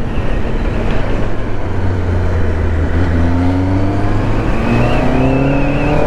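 Road traffic heard while riding a motorcycle through Kerala: a steady, loud roar of engines and wind with nearby vehicles droning and revving, their engine pitches rising as they accelerate alongside.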